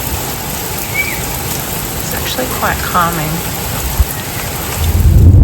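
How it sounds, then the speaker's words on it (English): Heavy rain pours down at Uluru in Central Australia as a steady, dense hiss filling the scene, with a low rumble building toward the end and a person talking briefly over it. "Now it's absolutely pouring. I think I heard some thunder as well."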